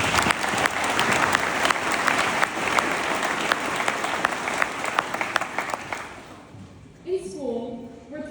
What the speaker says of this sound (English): I'd like to give a round of applause to everyone who made tonight possible